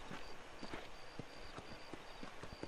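Quiet, steady horse hoofbeats clip-clop in a regular walking rhythm in the video game Red Dead Redemption, with a faint high chirping tone repeating in the background.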